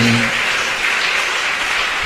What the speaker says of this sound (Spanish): ¿Quién tiene aplausos para el Señor